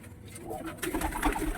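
Lotan and satin pigeons coo in a loft, with a few soft low coos coming close and growing louder toward the end of the short stretch.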